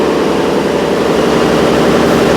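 Aboard the paddle steamer PS Mahsud, the main diesel engine roars nearby at a constant, heavy pitch, a thick unbroken drone with a rapid throbbing beat underneath.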